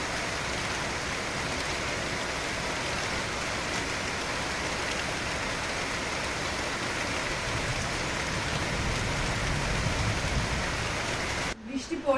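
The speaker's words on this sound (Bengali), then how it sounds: "ডাল লেকের উপর বৃষ্টি হচ্ছে" Rain falling on Dal Lake, a steady, even hiss of drops hitting water heard from nearby, continuous throughout with a brief rustle at the very end.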